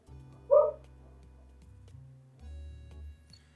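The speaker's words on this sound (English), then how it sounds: "And my dogs are barking again, and that's fantastic." Dogs barking in a video game, heard as one brief, moderately loud yip over a low, steady background hum.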